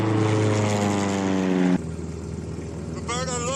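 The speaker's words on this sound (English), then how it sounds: "There's a plane." A small propeller plane drones overhead in a TV survival show set in Alaska, loud and steady, then drops suddenly and continues under a fainter wavering tone.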